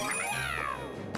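A single drawn-out electronic cat meow from the video game Super Mario Maker 2, bright and clear with a falling pitch, over a steady low hum.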